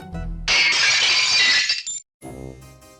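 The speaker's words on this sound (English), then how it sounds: "he heard the sound of breaking glass." A glass bay window shatters in one loud, sudden crash of breaking panes, then tinkling shards fall for over a second before the sound cuts off and a quieter tail follows.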